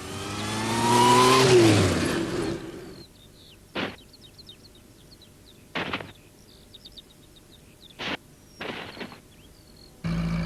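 Cartoon vehicle speeding with its engine revving loudly and climbing in pitch for about three seconds, then fading out to quiet birdsong broken by a few short bursts.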